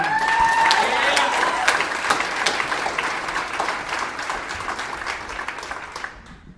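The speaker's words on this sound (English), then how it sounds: "Please welcome to the stage, big warm round of applause, Mike Imel, everyone." Warm audience applause welcoming comedian Mike Imel to the stage, loud dense clapping from a crowd that holds steady and then tapers near the end, with a voice briefly audible at the start.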